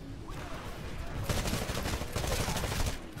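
Dense, continuous gunfire from the Titanfall multiplayer beta on the Angel City map, bursts of automatic fire overlapping in a loud, sustained barrage with a sharp rise about a second in.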